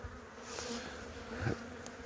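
Steady honeybee buzzing from a hive at about 1°C, a low hum throughout, bees droning close by, with a few brief louder rustles.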